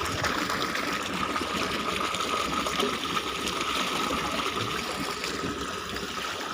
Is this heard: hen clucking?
no